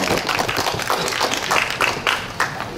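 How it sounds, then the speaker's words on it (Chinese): Scattered claps ring out from a church congregation welcoming a pastor at a Sunday worship service, a loose, moderately loud patter of hands filling the room with no one speaking. "咱们来一个掌声"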